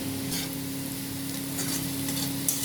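Potatoes fry in a pan with onions and poppy seeds, giving a continuous close hiss of oil with faint stirring crackles and no voices.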